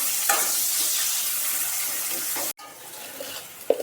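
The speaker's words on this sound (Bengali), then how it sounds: "পেঁয়াজটাকে একটু ভাজা ভাজা করতে হবে।" Onions sizzle steadily in hot oil in a pan, a close, continuous crackling fry that briefly cuts out and resumes, with a light stir clatter near the end and no talk.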